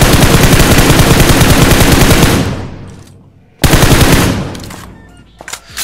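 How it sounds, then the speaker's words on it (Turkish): Gunfire in a PUBG Mobile firefight, with loud, rapid automatic bursts that stop abruptly, pause, then resume before trailing off into scattered distant shots. "Şuradan da güzel çatışıyorlar."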